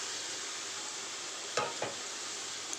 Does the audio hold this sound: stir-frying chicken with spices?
yes